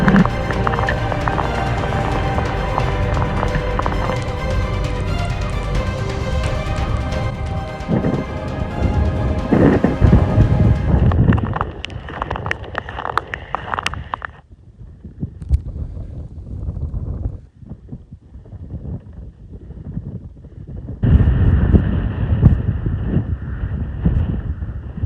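Strong Arctic wind in a winter wilderness roars loudly and continuously against the microphone, then drops into quieter, gusty stretches before surging again. No one speaks.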